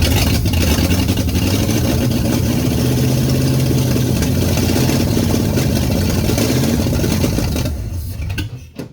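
The engine of a 1948 Ford truck runs loud and close with a steady, throbbing mechanical roar and slight pitch shifts as it is held up in revs, then it drops off and fades near the end.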